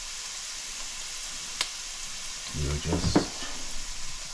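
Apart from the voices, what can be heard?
onion frying in oil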